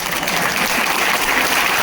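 Audience applause at a comedy show, dense and loud, sustained clapping throughout a short burst with no voices over it.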